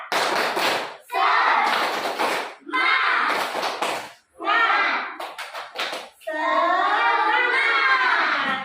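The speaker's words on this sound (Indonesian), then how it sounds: "Satu kali lagi. Tepuk semangat." Schoolchildren repeat a spirit-clap routine together, with sharp rhythmic hand claps cutting through their loud unison chanting over several short bursts.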